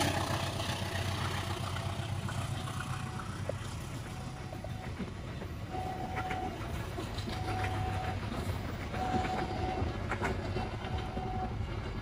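A train rolls past on a railway in Indonesia with a steady rumbling drone, faint rhythmic clatter and brief tonal squeals from the wheels and rails.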